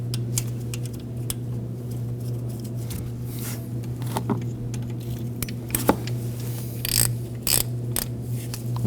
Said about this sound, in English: we can get the bolt back in to our bracket for the intake box